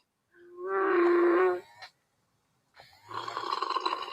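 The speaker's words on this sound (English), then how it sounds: "Snore." A toy figure gives a loud, drawn-out snore, a throaty rasp that cuts off, then after a pause a second noisy snoring breath follows.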